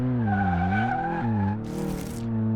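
A car driven on the test track in the Car Mechanic Simulator video game gives a steady engine drone that rises and dips in pitch, followed by a brief burst of tire skid noise, with no talking.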